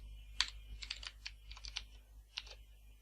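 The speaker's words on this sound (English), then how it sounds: "So if I type" Typing on a computer keyboard, a quiet close series of separate key clicks in uneven bursts over a low steady hum, with no one speaking.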